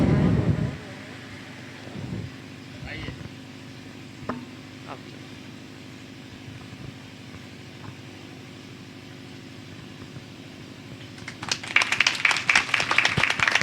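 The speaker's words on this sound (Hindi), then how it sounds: "जोरदार तालियां।" After a long quiet stretch with faint sounds, a burst of loud, crisp applause from an audience breaks out near the end at an Alha performance event.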